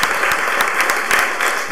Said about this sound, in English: Keep your applause going for Miss Allison Lynch, ladies and gentlemen